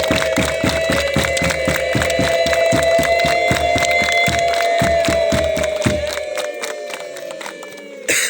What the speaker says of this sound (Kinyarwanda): Twongere rero duhe Imana amashyi n'impundu